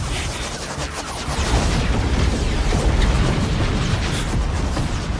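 Hundreds of cannon blasts in a fantasy battle from the Soul Land 2 animation merge into dense, continuous rumbling explosions, loud and relentless throughout.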